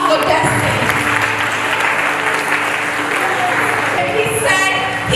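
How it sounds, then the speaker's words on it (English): An audience claps for a young speaker at a youth forum, a loud, dense, sustained round of applause lasting several seconds with faint voices beneath. "Clap for destiny."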